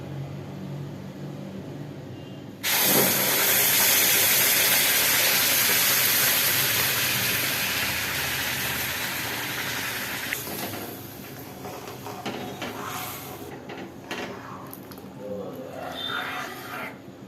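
Boiling water is poured into semolina in a pan while making kesari. A sudden loud steam hiss and sizzle starts partway in, then fades slowly into quieter bubbling and clatter.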